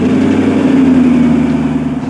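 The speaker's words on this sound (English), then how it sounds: "We're taking the Ford GT on the road." A Ford GT supercar's engine runs close by with a steady low hum and a faint rise in pitch as the car pulls away, with no voices.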